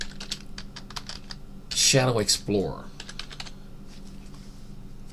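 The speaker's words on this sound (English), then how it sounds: "I'll get my typing right" Fingers tapping a computer keyboard in quick, uneven bursts of clicks throughout, with a person speaking briefly in the middle.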